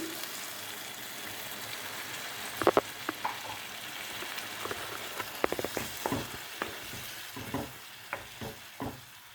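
Egg masala sizzles in a pan as water is added. A low, steady frying hiss runs beneath a series of sharp clinks and scraping stirs that come at irregular intervals, close by and with no talk.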